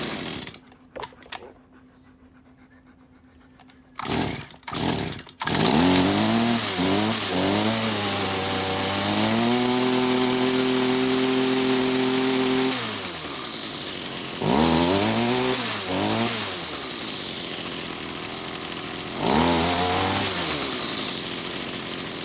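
After a few starting pulls and sputters, the small two-stroke engine of a Stihl FS38 string trimmer, choke on, catches and runs loudly, droning steadily, then revs up and down several times.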